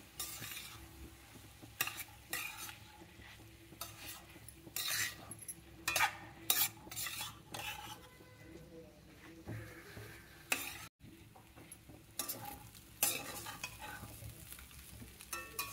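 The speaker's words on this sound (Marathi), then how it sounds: "आता आपण हे छान असं मिक्स करून" Cooked rice for tava pulao being tossed and mixed in a pan, with repeated scraping and clinking of a spatula against the metal over a soft sizzle, in uneven bursts throughout.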